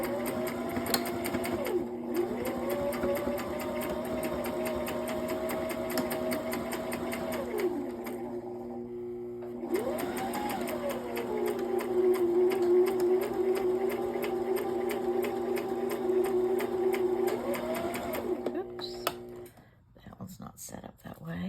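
A sewing machine runs a zigzag stitch in long steady bursts with pauses between them. The needle chatters evenly and close by, and it stops near the end.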